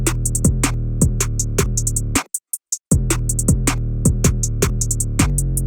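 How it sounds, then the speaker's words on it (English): A counter snare in an FL Studio remake of a track hits sharply and repeatedly in a steady rhythm over a dense beat, with a short near-silent break of scattered hits midway. "we also have this counter snare, and it sounds like this."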